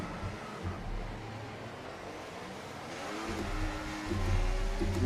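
Formula 1 cars revving and accelerating off the grid at a race start in the F1 24 video game, a steady loud engine drone that swells and rises in pitch toward the end, with no talking.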